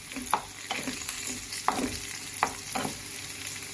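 Tomato frying in a pan for scrambled egg, a faint steady sizzle punctuated by a handful of quick spatula scrapes and taps at an uneven rhythm.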